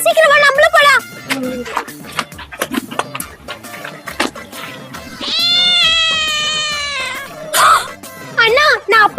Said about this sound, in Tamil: பூனைக்குட்டி தண்ணியில விழுந்துட் சே